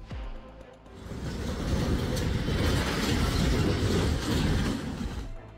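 Rolling Canadian Pacific freight train cars rumble steadily past, a broad continuous roar that builds, holds, and fades slightly at the end.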